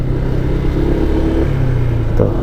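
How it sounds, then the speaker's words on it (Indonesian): A Honda PCX 160 (2024) scooter engine idles loudly up close with a steady hum and a faint metallic rattle from loose CVT rollers or sliders running underneath. "Ini bunyi di bagian mesin, entah mesin atau CVT ya, ada bunyi kayak"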